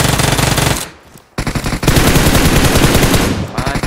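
Automatic rifle fire in a PUBG Mobile match, loud rapid bursts that cut out for a brief gap around the first second before resuming in a dense, continuous stream up close.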